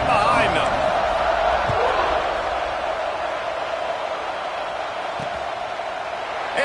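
Stadium crowd in a college football video game, Wake Forest matchup, roaring steadily at kickoff; a dense, continuous wash of cheering that holds level throughout with a few faint thumps underneath.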